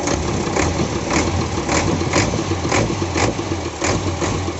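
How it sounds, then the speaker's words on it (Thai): An Isuzu NRR 195 truck's diesel engine idles steadily up close with the hood raised, a constant rumble carrying a regular pulsing beat about twice per second throughout. "เรามาดูเครื่องกัน เครื่องสวยๆเลยครับ"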